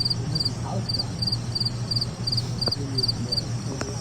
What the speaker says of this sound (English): Is there a cricket on the phone?